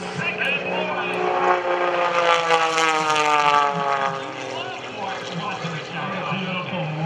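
A propeller aerobatic airplane flown by John Klatt at the 2012 Blue Angels Homecoming Airshow drones loudly, its engine pitch rising and falling as it maneuvers, while an announcer talks over it.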